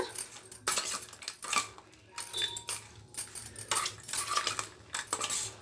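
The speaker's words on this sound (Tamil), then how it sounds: "இதை லைட்டாக கலந்து விட்டுடுங்க" A spoon clinks and scrapes against a bowl while mixing crispy fried corn with chopped onion and coriander, several sharp metallic knocks in an irregular rhythm, close and fairly quiet.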